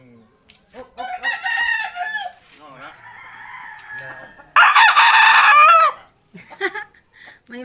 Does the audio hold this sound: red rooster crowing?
yes